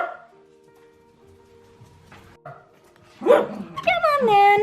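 A dog barks and yips outdoors at the end, with a few loud close barks and a whining, howl-like call, after a quieter stretch with faint speech.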